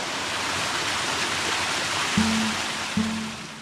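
Steady rushing flow of a mountain stream in the Julian Alps of Slovenia's Triglav National Park, a soft broadband wash at moderate distance, with two brief low thumps near the end.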